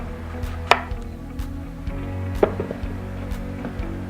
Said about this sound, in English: So I'm just going to cut off the ends of the zucchini.